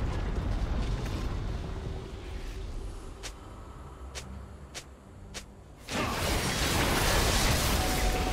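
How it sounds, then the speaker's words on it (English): A turret being destroyed in League of Legends: a steady rumbling game soundscape broken by several evenly spaced sharp clicks, then a loud sudden crashing burst that continues as a dense, sustained roar. "Team's turret has been destroyed."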